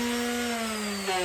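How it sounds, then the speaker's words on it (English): A steady, high-pitched motor whine with a buzzing grind holds throughout, a hand sander sanding a pipe continuously up close. "Back to the hand sander."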